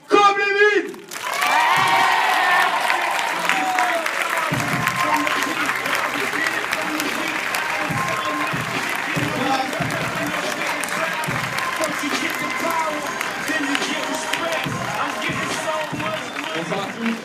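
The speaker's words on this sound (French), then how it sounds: "merci d'applaudir très très fort, comme les mines" A comedy show audience applauds loudly and continuously, dense clapping with scattered cheers and whoops filling the room after a brief opening voice.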